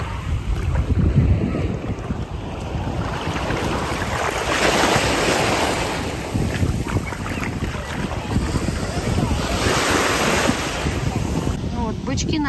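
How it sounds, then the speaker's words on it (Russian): Sea waves wash steadily onto a beach in Nha Trang in September, blended with heavy wind buffeting the microphone across the whole stretch. "Сейчас покажу море."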